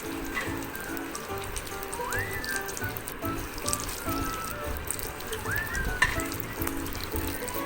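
Chicken popcorn deep-frying in hot oil gives a steady, close, dense sizzle with crackling pops throughout, and a few faint rising tones sit in the background.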